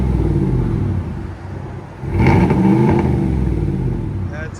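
A 2022 Chevy Silverado RST with a 5.3L V8 and Flowmaster Outlaw exhaust idles with a deep rumble, then revs up in a loud burst and settles into a throaty drone, with someone talking over it.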